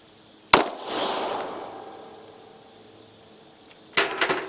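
Two sharp, loud gunshots from a Glock 27 .40 S&W pistol at an outdoor range, spaced about three and a half seconds apart, each followed by a fading echo, with no talking.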